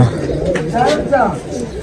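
A pigeon coos close by in soft throaty bursts at a loft in Kochi, while a person speaks over the calls.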